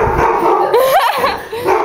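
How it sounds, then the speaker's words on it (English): A dog at a birthday party gives a short, close yipping bark and whimpering whine, rising and falling over a couple of seconds against faint room noise. "stop scaring the dog"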